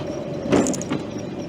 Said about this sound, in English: Just one solitary car coming round.